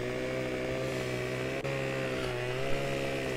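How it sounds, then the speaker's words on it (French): A chainsaw in the Farming Simulator 15 game drones steadily while cutting a tree, a loud continuous engine buzz with one brief dip partway through. "Hop, on va poser la tronçonneuse."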